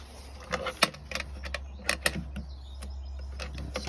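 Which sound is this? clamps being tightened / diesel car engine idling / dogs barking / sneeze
clamps being tightened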